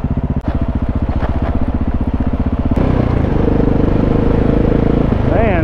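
A KTM 690 Enduro motorcycle engine throbs loudly and steadily up close while riding, its thumping pulse shifting pitch partway through as the ride continues.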